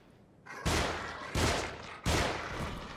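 Three loud, booming gunshots ring out in the horror video game The Evil Within, spaced roughly evenly apart, each with a short reverberant tail over a quiet background.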